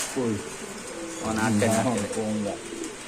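Pigeons coo in low, throaty warbling phrases, several overlapping calls close by, repeating through the stretch with a soft rhythmic pulse.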